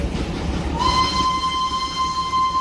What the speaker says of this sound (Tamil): இது வந்து டீசல் இன்ஜின்.